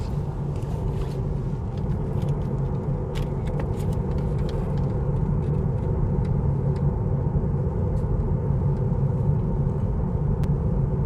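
Steady, loud road and tyre rumble from a Tesla Model 3 RWD Highland cruising at about 75 km/h on a highway, a continuous low drone with faint wind noise and no talk.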